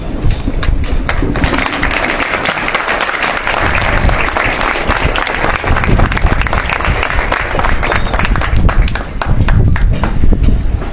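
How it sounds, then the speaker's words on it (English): Sustained applause from a standing audience greeting a commencement speaker at a graduation ceremony, with dense, loud clapping and some crowd noise continuing steadily throughout. "give a hearty clap as we welcome our commencement speaker"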